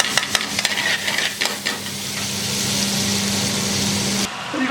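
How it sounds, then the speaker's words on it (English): Tomato puree cooking in a pan for restaurant-style chicken chaat, a steady broadband sizzle with a few early stirring scrapes, running continuously and cutting off abruptly near the end. "Then you've got your tomato puree. Slowly let that cook in."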